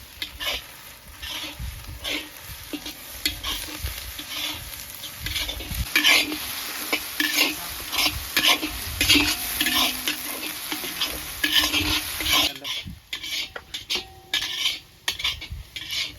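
Ginger-garlic and chili paste sizzling in a pan for a village-style Cipla fish curry, with continuous frying hiss broken by repeated scraping stirs and clinks of a utensil against the pot.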